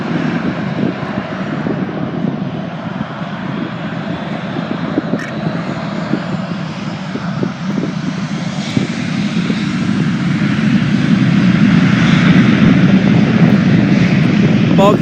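A Southwest Airlines Boeing 737-700 jet takes off at Milwaukee's MKE airport, a loud broadband engine roar that swells steadily toward the end, with people talking faintly over it.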